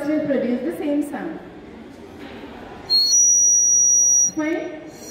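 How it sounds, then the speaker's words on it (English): Hollow ceramic bird-shaped whistle blown in a science demonstration, giving a steady shrill tone of about one and a half seconds that cuts off abruptly, with talk before and after. "Both the birds will produce the same sound."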